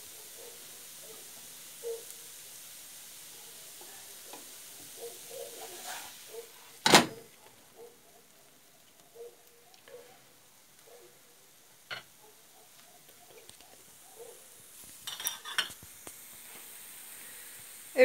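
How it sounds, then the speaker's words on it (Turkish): Omelette with red and green peppers, dried tomatoes and parsley cooking in a pan over low heat gives a quiet, steady sizzle with scattered small ticks and pops and a louder crackle now and then. "Şimdi biraz da kısık ateşte pişsin."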